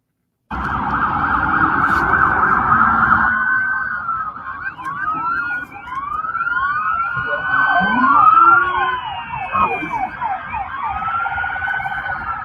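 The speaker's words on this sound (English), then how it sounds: "the sirens are so loud on there" Loud wailing police sirens rise and fall continuously, several overlapping at once, close by and sustained throughout.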